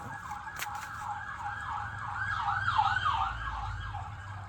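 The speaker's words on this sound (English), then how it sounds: "If you just heard that siren, like something is coming quickly." A wailing emergency siren sweeps up and down repeatedly in the distance, growing a little louder over a low traffic rumble.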